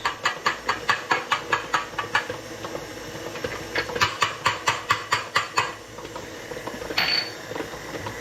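A mixer churns pork with curing salts and binding glue, giving a steady run of rhythmic clattering knocks and scraping pulses, fairly close and loud, with a brief high squeal near the end.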